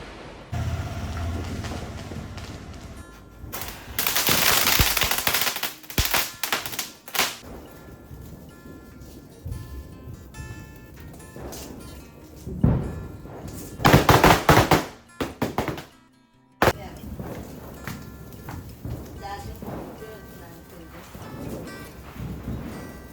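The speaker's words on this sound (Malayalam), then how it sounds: "പുറത്തൊക്കെ പടക്കം പൊട്ടുന്നുണ്ട് നമുക്ക് വെച്ച് പടക്കം പൊട്ടിക്കാം" Firecrackers burst in scattered clusters during Vishu festival celebrations, some sharp and close and others more distant, with quieter stretches and faint voices in between.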